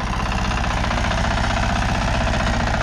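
A Kubota engine mounted on a trailer runs steadily, a loud, close, continuous mechanical drone with rapid regular pulsing and no pauses.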